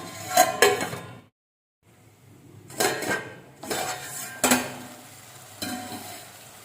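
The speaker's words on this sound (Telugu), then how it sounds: "మూత పెట్టి మగ్గించుకుందాం" A lid clinks onto a pan of simmering capsicum and tomato curry, giving a few close metallic knocks. After a brief hush, muffled sizzling and scattered pan clatter follow, with no talk.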